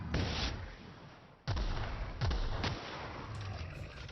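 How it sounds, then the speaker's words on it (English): Grenade launcher firing in the video game The Outer Worlds: three heavy booming shots with deep thuds, spaced about a second apart, loud and close, with a noisy rumbling tail between them. "He's just launching his grenades."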